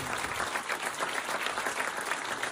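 A comedy show audience in a theater claps for family members in the crowd, a steady dense round of applause from many people, fairly even and continuous throughout.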